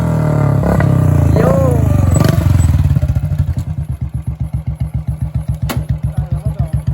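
A motorcycle fitted with a new loud silencer exhaust revs hard, then settles into a deep, steady thumping idle with a strong rhythmic pulse, close and loud; a person speaks over the opening revs.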